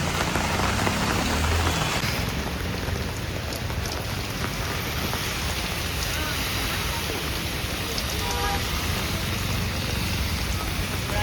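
Heavy monsoon rain in Pimpri falls in a steady, dense roar on surfaces nearby, continuing evenly for the whole stretch with no clear talking over it.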